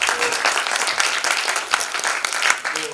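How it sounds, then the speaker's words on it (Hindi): A theatre audience applauds a stage play with dense, sustained clapping, close and loud throughout with no pauses. "अगर आप लोग को अच्छा लगे तो तालियां जरूर बजाइएगा"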